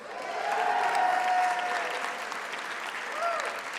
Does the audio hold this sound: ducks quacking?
no